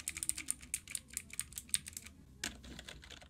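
Rapid clicky keystrokes on a non-mechanical computer keyboard, close and fairly quiet, come in an uneven burst, pause briefly, then resume.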